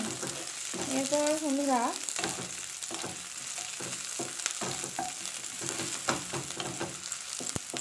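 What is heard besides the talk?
palak paneer ingredients lightly frying in a pan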